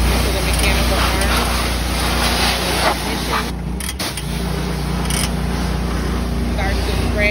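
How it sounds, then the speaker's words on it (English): A trash bin cleaning truck's engine runs loud and steady nearby, a constant droning rumble with a faint whine that barely changes throughout. "Once we arrive on site, we start our engine going."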